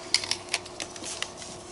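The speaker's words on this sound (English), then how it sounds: "we're going to tape this down." Tape pulled and pressed down to secure a sheet of paper, giving a string of sharp crackling ticks and short rips at close range over a steady faint background hiss.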